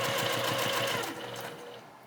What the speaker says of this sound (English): we're just going to baste these down together just so they don't shift around later